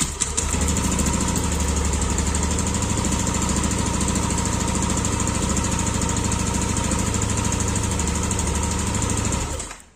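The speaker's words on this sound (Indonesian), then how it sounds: "Akhirnya kita lihat apakah motor nyala atau enggak ya." A Yamaha motorcycle engine fires up after magneto and stator coil servicing and settles straight into a loud, steady, close idle with a rapid even putter, then cuts off abruptly at the end.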